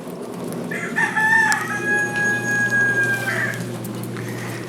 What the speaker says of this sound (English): And there's a rooster.